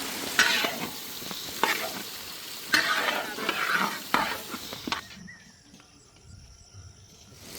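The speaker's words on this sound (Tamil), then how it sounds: "கத்திரிக்காய் நல்லா வதங்கி விட்டதா இந்த நேரத்தில் அரை வேக்காடு வந்து கத்திரிக்காய் வதங்கி இருக்கணும்" Brinjal pieces sauté in hot oil for a brinjal pickle, a steady sizzle broken by several sharp scraping stirs; the frying cuts off abruptly near the end, leaving quiet with faint background hum.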